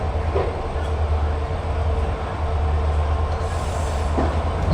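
A train hauled by two WDG4 diesel locomotives rumbles steadily past, a continuous low rolling roar with faint wheel clicks and no talk.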